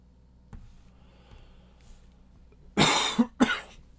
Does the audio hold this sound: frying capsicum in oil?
no